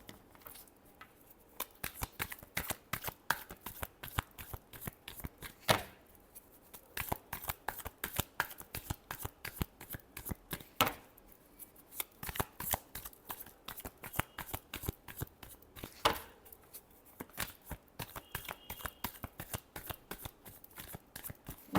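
Tarot cards are shuffled over and over in a close, quiet, crisp riffling patter, with brief pauses between bursts and no talking.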